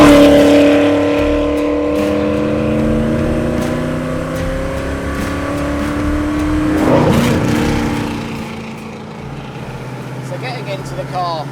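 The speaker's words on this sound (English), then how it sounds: "I got this engine, it fits nicely, it goes nicely, it sounds fantastic" Home-built GT40 replica engine running, a loud steady droning tone that rises and falls with revs, swells briefly near the middle and then settles to a lower, quieter hum toward the end.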